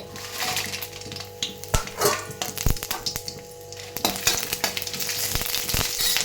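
Dry red chillies fry in hot oil in a pan while being stirred for a cucumber pickle. There is a steady soft sizzle with sharp scraping and clacking stir strokes, close by and without speech.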